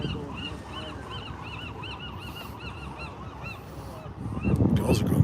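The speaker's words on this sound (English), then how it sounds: "Gulls are going crazy here." Many gulls call over and over, shrill and overlapping, above steady wind and surf noise that swells into a low rumble near the end.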